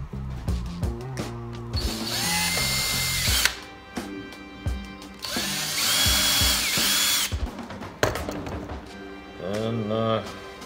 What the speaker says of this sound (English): got my old Craftsman battery powered drill here